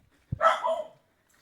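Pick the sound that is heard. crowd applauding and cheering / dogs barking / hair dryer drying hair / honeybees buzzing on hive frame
dogs barking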